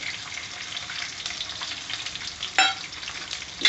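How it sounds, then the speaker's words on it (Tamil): Onions, garlic cloves and two dried red chilies sautéing in oil, a soft continuous frying hiss with occasional stirring scrapes and a brief clatter near the end. "இப்போ இதை வந்து நல்லா வதக்கிக்கோங்க"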